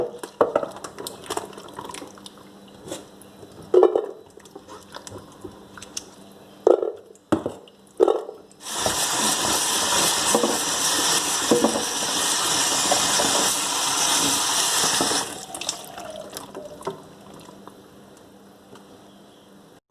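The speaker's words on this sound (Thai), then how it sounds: "แช่ไว้สักพักหนึ่งแล้วก็มือถูๆๆแบบนี้ แนะนำล้างหลาย ๆ น้ำเลยเจ้า" Wild earthstar mushrooms being washed by hand in a basin of water, starting with scattered splashes and handling clatter, then giving way to a steady, loud rush of running water that continues for several seconds before easing off.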